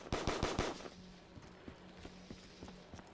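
Gunfire in Call of Duty Black Ops 3 Zombies: a quick burst of four or five loud shots opens, then sparse, fainter game sounds and thuds follow.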